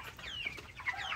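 Broiler chickens clucking while they eat, a flock of short, bright clucks and chirps overlapping close by and fairly quiet, with no talking.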